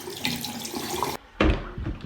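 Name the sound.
shower water running in a cartoon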